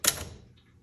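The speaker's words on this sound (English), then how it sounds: "This is the nicest typewriter I have ever typed on" A single sharp keystroke on a 1967 Adler J4 typewriter, a crisp close clack that fades quickly, with a faint mechanical after-sound.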